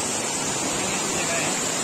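Rani Duduma waterfall at Koraput pours in a steady, loud, unbroken hiss of rushing water close by.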